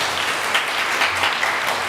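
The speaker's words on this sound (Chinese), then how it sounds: "我们再一次鼓掌" A church congregation claps together during a worship service, a dense, even burst of applause lasting the whole moment.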